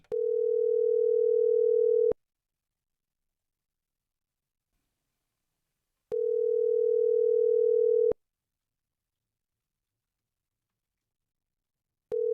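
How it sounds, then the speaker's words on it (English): A telephone call rings out before reaching voicemail: a steady, mid-pitched ringback tone sounds in long two-second bursts separated by about four seconds of silence, with two full rings and the start of a third, and no voices. "Oh, 3 rings is never good."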